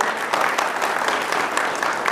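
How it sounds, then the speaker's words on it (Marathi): A lecture audience breaks into applause, a dense, even wash of many hands clapping throughout. "खरोखर या युट्यूबच्या माझ्या टीमसाठी एकदा खरोखर जोरदार टाळ्या वाजवा."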